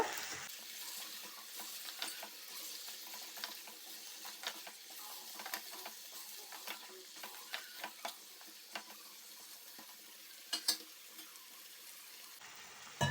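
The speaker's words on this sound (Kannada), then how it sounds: "ಎಲ್ಲವನ್ನು ಫ್ರೈ ಮಾಡಿಕೊಳ್ಳುವ." Chicken stew ingredients fry in a pan for an Indian-style stew, a steady close sizzle broken by irregular scraping clicks as a utensil stirs them, with no talking.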